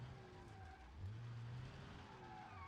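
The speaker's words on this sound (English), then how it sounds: "Bumper dragging over the speed bumps." A car in BeamNG dragging its loose bumper over speed bumps on a proving ground: a low engine drone with brief scraping, squealing tones as the bumper catches, fairly quiet with no voices.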